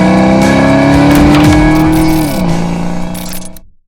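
A crystal blue 1991 Ford Mustang 5.0 Fox body with automatic transmission accelerating hard on a test drive, its loud close V8 engine rising in pitch, shifting once, then fading out, with no talk.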